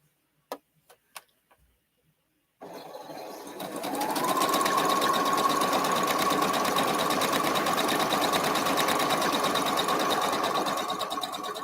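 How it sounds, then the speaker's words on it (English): A domestic sewing machine stitches a quilt, starting after a few sharp clicks and then running as a loud, steady, fast mechanical whir close by until the end. "I guess I better finish sewing this one."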